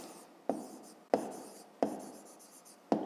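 Pen strokes writing a maths exercise by hand on paper, four scratchy bursts each starting with a sharp tap and trailing off, close and fairly quiet with no talk.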